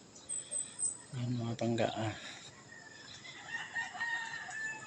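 A rooster crows nearby among other chirping birds, while a person speaks briefly over the calls.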